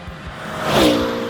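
A Koenigsegg CCXR Trevita sports car gives a short, loud whoosh of acceleration, its engine note sliding as it surges past.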